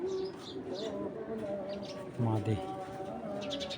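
Racer pigeons coo softly nearby, with a deeper coo burst partway through and scattered chirps, while someone talks over them for most of the stretch.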